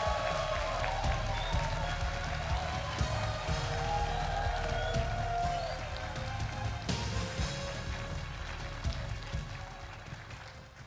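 Audience applause at a corporate 50th-anniversary vision ceremony, a steady wash of clapping from a large crowd that holds for several seconds and then eases slightly toward the end, with a low hum of music or hall noise beneath.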